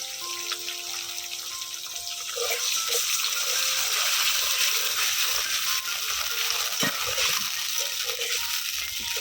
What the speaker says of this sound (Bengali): এবারে বানিয়ে রাখা জলটা দিয়ে দিব।